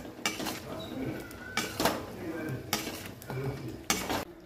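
A spoon scrapes and knocks against a pot while a sweet mixture is stirred, with a few sharp metallic clinks over a low steady background, close by.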